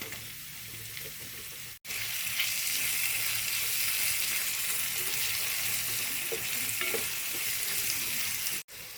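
Onion, garlic and tomatoes sizzle in hot oil in a pan for an egg curry, a loud, steady crackling hiss that runs almost unbroken apart from two brief cuts.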